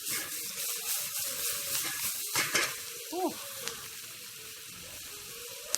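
Plantain slices sizzle in a hot frying pan as they are flipped, a steady crackling hiss with a few scraping clatters of the utensil partway through.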